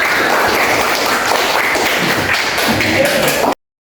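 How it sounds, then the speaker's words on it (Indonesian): A classroom of students claps together, a thick, fast, continuous patter of hands that stays loud and even before cutting off abruptly. "Oke, beri tepuk tangan untuk kita semua"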